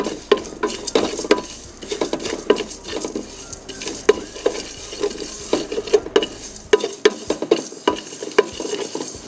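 Rice for pilau roasts in a pot, sizzling steadily while a spoon stirs and scrapes against the metal in repeated clinks and scuffs, close and moderately loud with no voices.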